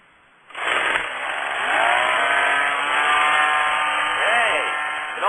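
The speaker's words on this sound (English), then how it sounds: "high-torque gas-powered hedge trimmer" A 1.5-horsepower, 24-inch-bladed, high-torque gas-powered hedge trimmer with a double reciprocating blade snarls to life and runs loud and steady for several seconds, its engine note rising and wavering slightly, staged as a radio ad effect.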